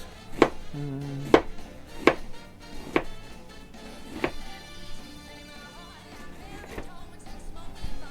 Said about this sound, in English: We'll do like a quarter of this onion. So let's go ahead and just do these long slices.